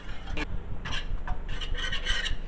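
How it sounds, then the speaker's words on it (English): A whisk works a drawing poultice mixture in a bowl, giving close, steady scraping and rasping strokes with brief brighter swishes, heard alone without talk. "What you're going to do then is whisk it."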